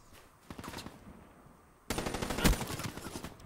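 Gunfire in Black Ops 3, the shooter video game: a few faint shots early on, then a louder, dense burst of rapid automatic fire from about two seconds on, peaking in one sharp crack, with no talk.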